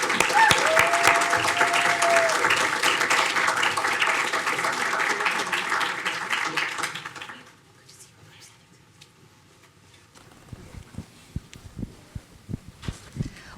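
Audience applause at a women's investing panel event, a loud sustained round of clapping from the crowd that fades out after about seven seconds, followed by quieter scattered sounds and a voice.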